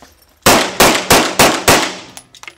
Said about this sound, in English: So we're going to make a test with live fire.